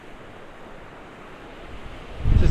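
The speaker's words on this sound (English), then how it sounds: "Just totally wind waves." Wind-driven waves break along a Great Lakes shore with steady surf noise and wind buffeting the microphone, then a louder wave crashes close by near the end.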